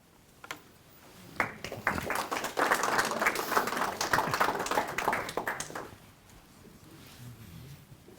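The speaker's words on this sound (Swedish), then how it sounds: "du fick applåder efteråt också" Audience applause follows a business presentation, a burst of dense clapping building from the start, holding steady for several seconds, then tapering to scattered claps and quiet room noise.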